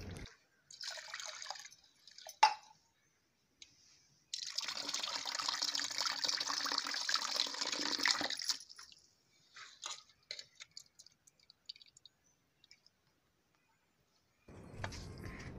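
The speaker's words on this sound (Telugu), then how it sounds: "నీళ్లు మార్చుకుంటూ 2 నుంచి 3 సార్లు కడుక్కోవాలి." Soaked green gram lentils are rinsed in water, giving short bursts of splashing and swishing, one long stretch of steady sloshing, scattered drips and quiet gaps, all close and fairly faint.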